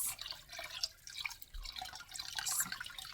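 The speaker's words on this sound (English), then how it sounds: "Swooshing the water around like this." Water is swirled around inside a cooking pot, giving a soft, continuous sloshing and dripping wash with faint splashes. The sound is quiet and close, with no talking.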